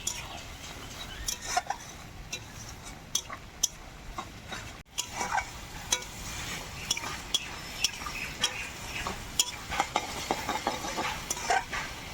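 Spice paste of ground tomato and onion with whole cumin, cinnamon, cloves and cardamom frying in oil for a chicken curry, a steady close sizzle broken by repeated scraping stirs and light utensil clicks.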